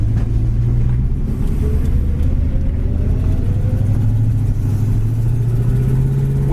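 A 1973 AMC AMX engine idles and then slowly revs upward, its steady hum rising in pitch near the mic, with no talking.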